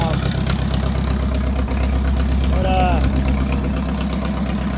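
A 1964 John Deere track loader idles close by with a steady, loud, low-pitched diesel chug and a rhythmic knocking pulse that holds even throughout, while a voice briefly speaks over it.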